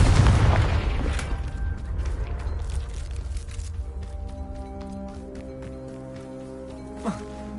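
A Confringo explosive spell blasts in Hogwarts Legacy, opening with a heavy booming burst that rumbles and slowly fades, followed by lingering ringing tones and a small pop near the end.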